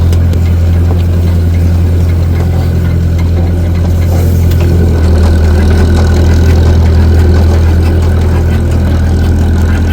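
A John Deere 730 tractor engine runs loud and close with a steady, deep, throbbing drone that holds an even level throughout.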